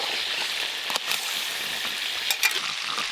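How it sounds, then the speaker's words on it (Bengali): Cauliflower fries in a pan with a continuous, fairly loud sizzle and hiss, and a few brief clatters and scrapes as the pieces are moved. No one speaks. "এবার ফুলকপি ভেজে নেব"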